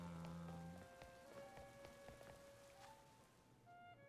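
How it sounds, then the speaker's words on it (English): Rain patters softly in Pokemon Legends Z-A, a faint steady drizzle of drops beneath gentle tonal game music notes. "It's raining, that's pretty."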